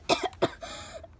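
Two quick, close coughs in a row, followed by a brief, rough exhale as the fit trails off.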